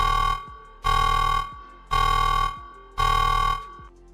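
Four evenly spaced, loud buzzing alarm blasts, each about half a second with short gaps, played as a sound effect during a livestream of the game Lies of P.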